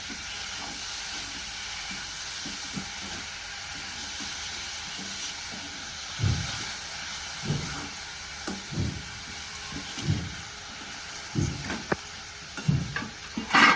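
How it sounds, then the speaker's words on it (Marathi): Grated bitter gourd hits a hot pan of masala for a Marathi karela bhaji, setting off a constant close hiss and sizzle broken by crackling bursts that grow busier toward the end, with no one talking. "ते कारलं मी ह्यात टाकून घेते"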